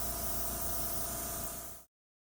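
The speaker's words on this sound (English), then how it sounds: "I've got my airbrush here." An airbrush sprays fluid acrylic paint as a soft, even hiss for about two seconds before cutting off abruptly.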